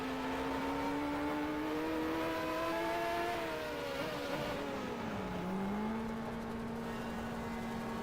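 Race car engine droning steadily in a racing video game during an endurance event, pitch sliding down and back up as another car draws alongside on the left, continuous and fairly loud with no talk.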